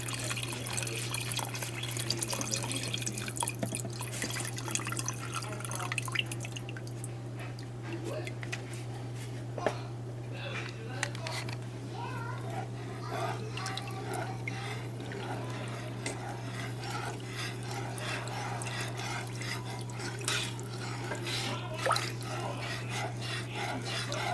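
Chicken broth from a 16.9 ounce package pours into a turkey gravy pan over heat, a continuous liquid splash and trickle with clinks of the pan, beneath a steady low hum and a person talking.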